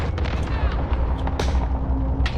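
Cluster strike explosions and gunfire rumble in a Call of Duty battle royale match on Rebirth Island, a steady, heavy low-end barrage with sharp cracks popping through, loud and close.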